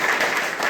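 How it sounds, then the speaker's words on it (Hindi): Audience applause welcoming a performer onto a stage for a Hindi poetry reading, a brief burst of dense clapping from many hands, close and even. "आइए और तालियों से स्वागत कीजिए"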